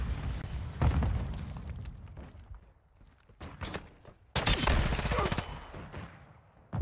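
A grenade goes off in a first-person shooter game during a multiplayer match, one sharp, loud blast followed by a dense rattle of gunfire and debris in a noisy battle scene.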